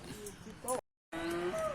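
Cattle at a native-breed livestock market in Nan province, northern Thailand, give a couple of low, drawn-out moos close by, separated by a brief silent gap, with faint market chatter underneath.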